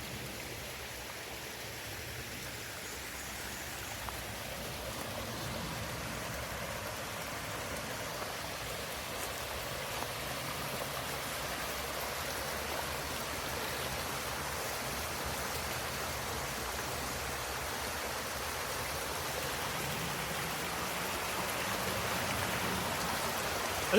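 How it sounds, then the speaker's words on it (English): A small roadside waterfall gives off a continuous, even rush of falling water, a soft broadband hiss that stays unchanged at moderate distance with no voices over it. "It's not a huge waterfall, but pretty cool nonetheless"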